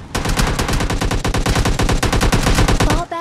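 Rapid automatic gunfire from a small gun in the mobile battle-royale game PUBG Mobile Lite, a dense, loud, continuous stream of shots that fills the whole stretch and cuts off sharply at the end.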